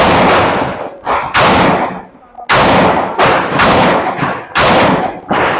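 Several loud M&P9 Shield Plus pistol shots ring out at a shooting range in an uneven sequence, some in quick pairs, each a sharp close crack with a brief echoing decay.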